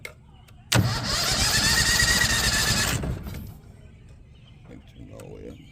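A 23 horsepower Vanguard mud motor catches suddenly and runs loud and close for about two seconds, then drops to a quieter idle, with a few faint sounds afterward.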